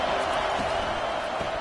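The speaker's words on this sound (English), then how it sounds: "Decibels rising as the crowd gets behind this defense on 3rd down." Stadium crowd noise on 3rd down in a football video game, a dense, loud wash of roaring fans with a few thumps mixed in, continuous and steady with no break.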